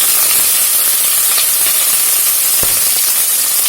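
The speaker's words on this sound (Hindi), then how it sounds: "प्याज डाल के इसे थोड़ी देर भून लेते हैं।" Chopped onions fry in hot mustard oil with cumin for spicy chhole, a loud, dense, continuous sizzle and hiss heard up close, with an occasional sharp pop and no voices.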